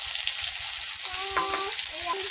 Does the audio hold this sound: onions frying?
yes